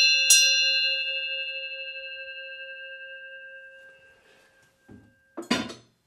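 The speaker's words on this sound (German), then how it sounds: "Ein altes Weideglöcklein" A single bright clang of an old cow pasture bell rings out and slowly decays over several seconds, followed by a couple of soft knocks and a short rattling jingle.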